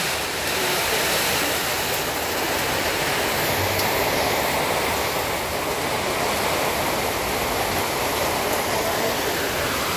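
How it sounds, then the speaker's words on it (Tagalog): Dense, steady hiss of heavy typhoon rain pouring down without pause, loud and even throughout. "Lakas ng ulan."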